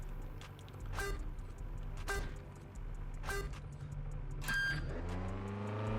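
Racing car engine from the DIRT 5 video game, a steady mid-pitched drone with rising revs, a few sharp tone bursts from horn-like effects, continuous and loud throughout.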